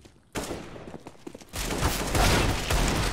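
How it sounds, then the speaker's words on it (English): Counter-Strike: Global Offensive gunfire: a sharp shot opens a spell of scattered reports, then a loud, dense burst of rapid fire keeps going to the end, near and harsh. "he's gonna accidentally shoot him in the back of the head"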